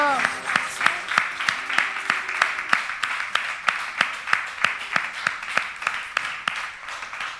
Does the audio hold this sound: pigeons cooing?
no